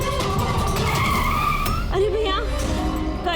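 A car skids to a stop on a road in a Hindi TV crime drama, with a sustained tire screech over engine noise, loud and close, ending in a sharp wavering squeal; dramatic music plays underneath.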